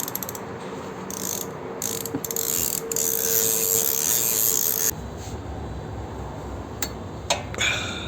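A KTC Nepros 90-tooth ratchet wrench clicks in fine, fast bursts as it is swung back and forth, close and clear, with short pauses and a few sharper isolated ticks near the end.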